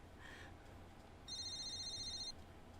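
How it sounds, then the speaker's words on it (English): A cell phone in a woman's pocket gives a short electronic text message beep in Katawa Shoujo, a clear steady tone lasting about a second over a quiet background hum. "A beeping noise suddenly emanates from Mrs. Ibarazaki's pocket"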